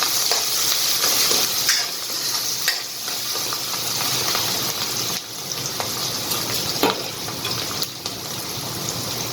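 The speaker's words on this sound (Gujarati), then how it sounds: "એ હવે આપણે ટ્રાન્સપરન્ટ થાય તો લગીને સાતળી લઈશું" Finely chopped onion sautés in a pan with asafoetida and garlic for methi bataka nu shaak, a continuous close sizzle with occasional stirring scrapes throughout.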